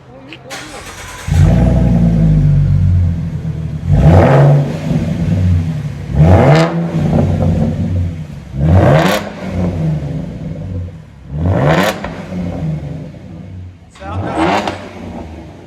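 Ford Mustang V6 with mufflers deleted and straight pipes, revved hard in several loud, separate bursts over a steady idle. Each rev climbs sharply and falls back, about every two seconds, and a voice talks briefly between them.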